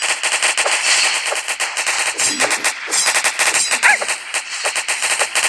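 Rapid bursts of automatic gunfire in a Roblox Call of Duty–style zombies game, dense crackling volleys with brief pauses, loud and close, no talk.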